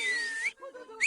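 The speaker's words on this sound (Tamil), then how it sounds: "உனக்கு நான் விசில் அடிக்க கத்து தரேன்." A cartoon character whistles two short, bright tones that glide in pitch, separated by a brief soft gap, clear and close with no talking.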